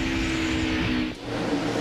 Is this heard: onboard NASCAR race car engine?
yes